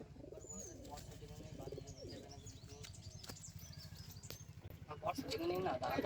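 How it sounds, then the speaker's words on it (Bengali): Several pigeons kept for sale coo in low, rolling, repeated notes throughout, with scattered chirps and a brief flutter of wings, growing slightly louder toward the end. "এই যে সুন্দর পায়রা একদম।"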